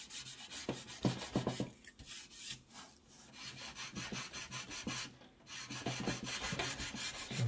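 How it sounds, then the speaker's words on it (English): Steady back-and-forth rasping of sandpaper along the edges of an HO scale model building kit, close and fairly quiet, in short rhythmic strokes with brief pauses and no talking. "I'm trying to sand the edges because I don't want to lose"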